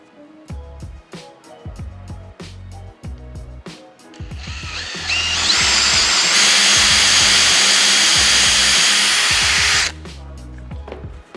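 A power drill with a spade bit countersinks a screw hole in wood for a home office desk, winding up into a loud, steady whine for several seconds before cutting off, amid close knocks and handling clatter.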